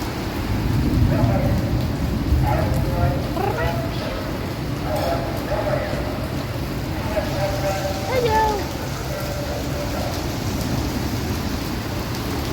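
Heavy rain pours during a thunderstorm in Malaysia, a loud, constant hiss and drumming throughout, with people talking over it.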